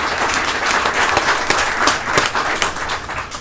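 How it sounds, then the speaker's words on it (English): Applause from the audience at a hospital network event, loud, close, continuous clapping from many people with small surges, no talk over it. "Was that Mohammed that led that applause?"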